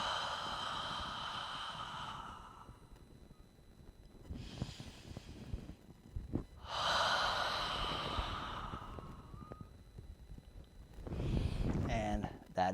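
Long, forceful breaths pushed out during a dead bug core exercise, three or four loud, close exhales separated by short pauses and quick inhales.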